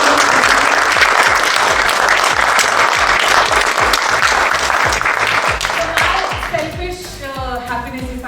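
A large evening event crowd gives a huge, loud round of applause, dense clapping that holds steady and then thins and fades near the end as a voice begins to come through.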